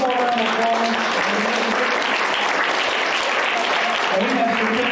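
Sustained applause from an audience at a school spelling bee, thick and steady clapping with a voice speaking faintly underneath.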